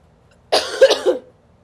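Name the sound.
cough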